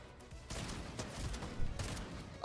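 Gunfire crackles during a fight in the Fortnite battle royale video game: a fast string of sharp bursts over continuous game noise, moderately loud, with a louder burst near the end.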